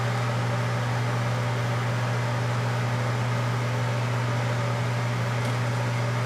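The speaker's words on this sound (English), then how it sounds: "I'm going to melt the white chocolate in the microwave until it's completely melted." A microwave oven melting white chocolate hums steadily with a low, constant drone and faint whirring noise, unchanging throughout.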